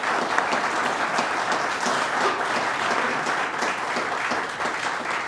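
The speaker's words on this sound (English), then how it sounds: "Let's give them a big round of applause." A large audience claps steadily at a city speech event, a dense, even wash of applause holding at full strength throughout with no voices breaking through.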